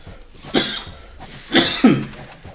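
A person has a short coughing fit: three harsh coughs, one alone and then two in quick succession, close and fairly loud over a low background hum.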